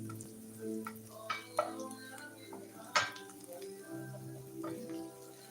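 A spoon stirs onions, garlic and green pepper in a pot for beef stew, making scattered light clinks and scrapes against the metal, with one sharper knock and low kitchen hum underneath.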